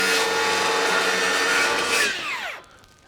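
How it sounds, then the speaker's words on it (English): A power driver whirs steadily while screwing Trex composite deck boards into place outdoors, then winds down in pitch and cuts off near the end. "And then I can screw them in place."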